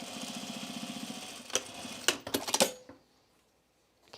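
A sewing machine running an automatic stitch on a fabric bowl cozy, a rhythmic mechanical whir that ends in a few clacking knocks before near silence and one last click.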